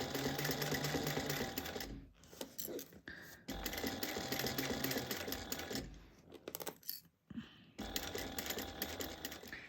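A sewing machine stitches through a thick, layered bag in several runs of fast, even needle hammering, broken by short pauses and clicks as the fabric is repositioned, heard up close without talking.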